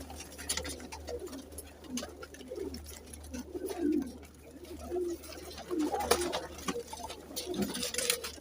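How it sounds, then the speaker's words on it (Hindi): Flying pigeons of mixed crossbreeds coo softly in repeated low calls amid light patter and fluttering, fairly faint against a steady background hum. "माशाल्लाह बड़े अच्छे उड़ने वाले कबूतर हैं इसमें"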